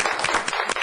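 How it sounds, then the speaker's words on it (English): Brief burst of applause from people at a city council meeting, dense steady clapping throughout, fairly close and loud with no talking over it. "One more round of applause for all the folks who worked on it."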